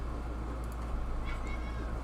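A cat meows a couple of times, faint and somewhat distant, over a constant low hum in an indoor room.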